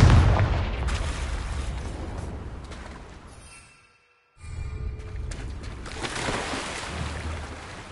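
A Confringo blasting spell goes off in Hogwarts Legacy with a heavy booming blast that rumbles and fades into brief silence, followed by a second rolling burst of noise.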